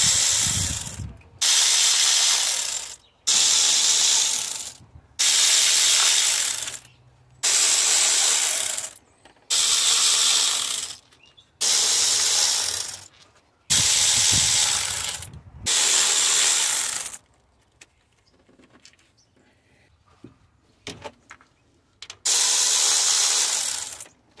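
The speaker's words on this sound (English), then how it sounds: "now I can proceed to take out all the bolts" A ratchet loosening 10mm valve cover bolts on a 2.4-liter Toyota RAV4, with about nine sustained rapid clicking runs separated by short pauses, then a quieter stretch and one final burst, close and loud.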